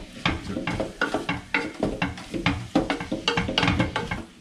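Spiced food for sambhar is stirred in a pan to coat it in masala. Quick rhythmic scraping strokes repeat close up over a light sizzle.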